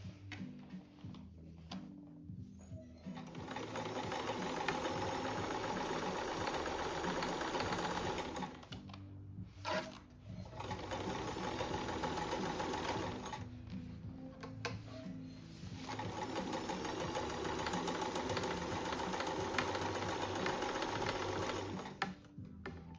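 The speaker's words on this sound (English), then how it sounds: "then I'm gonna back stitch" A sewing machine back stitches a patriotic zippered seat cushion cover for a front porch. It runs in three long, steady, ticking stretches separated by short pauses, with quiet handling at the start.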